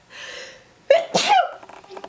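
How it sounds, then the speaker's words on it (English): A single loud sneeze close by, preceded by a sharp intake of breath and followed by a brief sniffle. "I'm gonna sneeze."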